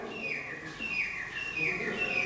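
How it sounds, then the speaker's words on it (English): A bird calls outside Bhangarh Fort in repeated high, wavering chirps, faint and distant, over a quiet background hiss. "I can hear a bird out there,"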